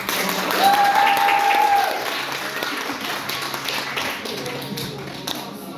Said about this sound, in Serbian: Možeš jedan aplauz za njih.